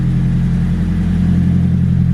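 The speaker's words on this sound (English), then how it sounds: "And it sounds amazing with this aftermarket exhaust." A 1995 Nissan 180SX Type X with an SR20DET engine and aftermarket exhaust drones with a deep, steady exhaust rumble, loud and close, with no talking.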